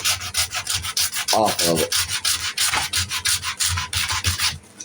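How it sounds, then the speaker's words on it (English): Rhythmic hand sanding of an epoxy knife handle with 60 grit paper, a rasping scrub repeated in quick strokes, close and loud, with a few words spoken partway through. "It's going to take a 60 grit to kind of go over it."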